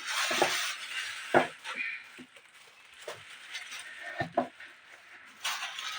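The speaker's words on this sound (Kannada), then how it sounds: "ಇನ್ನು ಚಿಕನ್ನ ಇದಕ್ಕೆ ಹಾಕೊಂಡ್ಬಿಡ್ತೀನಿ" Chicken pieces tipped into a pot of egg curry, with a few clattering, stirring knocks of utensil against metal pot and light sizzling, close and without talk.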